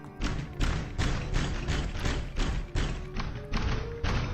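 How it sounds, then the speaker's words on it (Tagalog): Five children pound on a bedroom door in a Filipino radio drama, a loud, steady run of heavy thuds at roughly twice per second, close and alone. "Nagulat na lamang siya nang biglang pinaghahampas ng limang bata ang pinto."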